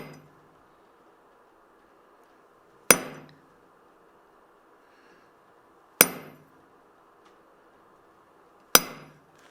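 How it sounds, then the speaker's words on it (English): Three sharp, loud hammer strikes on an axe's metal, spaced a few seconds apart, each ringing briefly before fading, over a faint steady hum. "I try to hammer out this piece"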